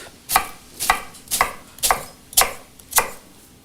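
A knife dices an onion into cubes on a cutting board, six crisp evenly spaced chops close up, with quiet pauses between them and no talking.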